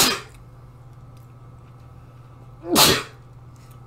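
A single sharp sneeze bursts out near the start, then after a pause another loud sneeze follows close by, with quiet background between them.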